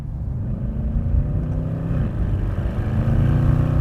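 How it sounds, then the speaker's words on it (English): A Mercedes C63 AMG 507 Edition with its 6.2L V8 accelerates, its deep exhaust note rising steadily and droning loud and close without any talk. "Very nice exhaust note, especially on the downshift and stuff."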